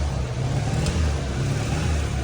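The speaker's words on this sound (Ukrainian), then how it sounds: "вона як ніби троїть, Що, думаєш розгазується?" A 2005 ZAZ Tavria Nova with a misfiring engine, revved so it runs rough and uneven, a close, fairly loud mid-pitched engine note with a slightly unsteady throb for a couple of seconds.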